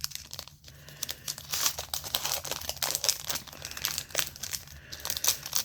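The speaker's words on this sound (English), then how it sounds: "I'm just cutting right above it, just to cut the seal right there." A Yu-Gi-Oh Quarter Century Stampede card pack has its foil seal cut open just above the cards, a close, continuous crinkling and rustling of the wrapper with small snips and tears.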